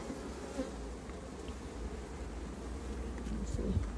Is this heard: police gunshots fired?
no